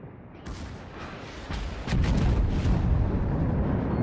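Dunkerque's secondary guns in World of Warships fire in a dense, rumbling barrage at close quarters, with repeated booms stacking into a heavier, continuous roar toward the end.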